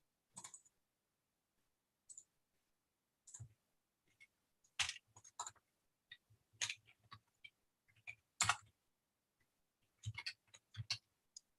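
Typing on a computer keyboard comes in short, scattered bursts of crisp clicks separated by silent pauses, close and quiet with no speech.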